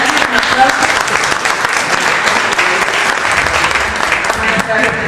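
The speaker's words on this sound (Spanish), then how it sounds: "Un aplauso." Audience at a state science outreach gathering applauding during an award presentation, loud, sustained dense clapping from a crowd with faint voices underneath.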